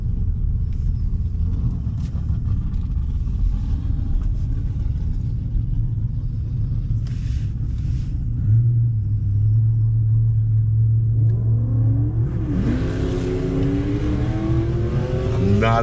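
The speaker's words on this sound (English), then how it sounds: "I am racing Nico's Camaro." A 2021 Range Rover Westminster races a Camaro, with loud, steady engine rumble throughout and a rising rev that climbs in pitch toward the end as the vehicles accelerate.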